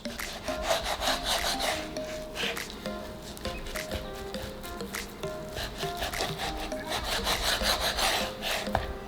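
Knife slicing a cooked steak into one-inch strips on a board, repeated rasping sawing strokes in a steady rhythm, close and moderately quiet, with no talk.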